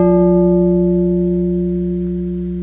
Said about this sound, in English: So that was the sound of the beam being struck on its end